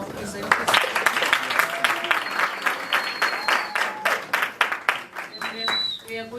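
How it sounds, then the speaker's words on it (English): An indoor audience at a university research day gives presenters a sustained round of applause, many hands clapping close and loud in an even wash that tapers slightly at the end. A voice speaks briefly over it. "A round of applause for our presenters."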